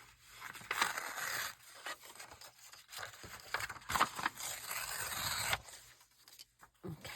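Paper for a journal being cut by hand, a close, rasping series of scraping snips and rustles in uneven strokes, with a brief crinkle near the end.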